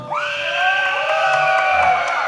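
A wrestling crowd at an OVW women's title street fight screams and cheers loudly and continuously, a dense sustained roar of high-pitched shrieking voices holding steady throughout.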